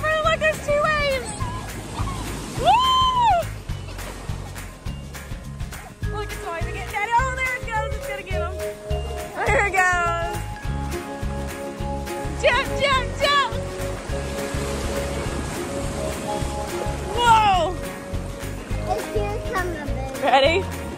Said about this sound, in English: Look, there's two waves!